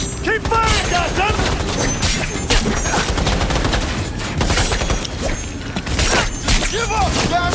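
Gunfire in the video game Cyberpunk 2077 comes as dense, loud bursts of rapid shots and mechanical clatter that run continuously throughout, with voices shouting over the shooting.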